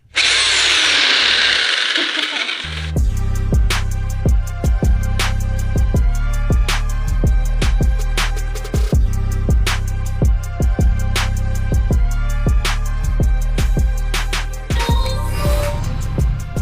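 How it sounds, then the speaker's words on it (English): A demolition hammer breaking plaster off walls hammers away in fast, rhythmic bursts with sharp repeated impacts, starting after a brief rush of broadband noise, continuous and close. "Oh, that's the demolition hammer."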